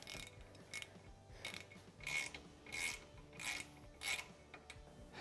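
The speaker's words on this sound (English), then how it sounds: "I'm just going to use a T40 Torx bit on my ratchet to do that." Ratchet with a T40 Torx bit driving a self-tapping screw into a bracket on a Can-Am Maverick Sport UTV, quiet rhythmic clicking bursts, about six strokes at close range.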